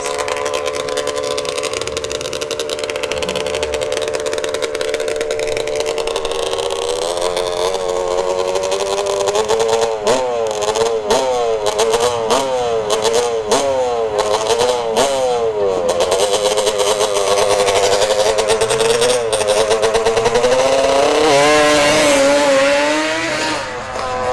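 A drag-racing quad at ShowTime Dragstrip's Street Warz event blasts down the strip. Its engine note is loud and sustained, with revs climbing and sweeping through several shifts before the sound cuts off.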